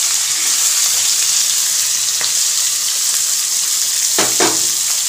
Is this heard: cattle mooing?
no